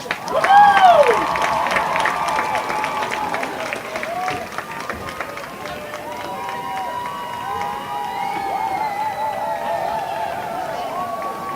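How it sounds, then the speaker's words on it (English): Crowd applause and cheering for the homecoming court at a high school football game, a broad swell of clapping and voices that rises at first, then settles into a steadier hum of crowd noise. "let's give a huge round of applause to all the members of the homecoming court"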